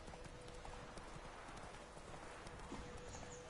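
Horse hooves clip-clop steadily at a gallop in The Witcher 3, a continuous close rhythm of hoofbeats over an outdoor game soundscape.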